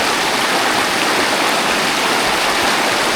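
Steady, loud rushing of river water as horses cross it, a broad continuous wash with no pauses.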